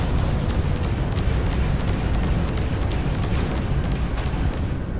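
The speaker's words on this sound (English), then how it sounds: "Missiles away." A steady, loud, dense roar of missile launches and explosions in the Starfield space-combat game, a continuous rumbling wash with no distinct individual blasts and no talking.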